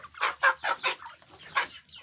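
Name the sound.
rooster crowing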